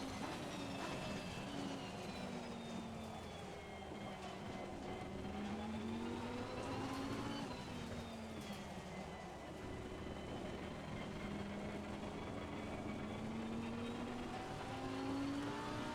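A racing car in a driving video game accelerates hard in a wet rain setup, its engine whine climbing and falling through gear changes over a steady road roar, faint and continuous with no voices.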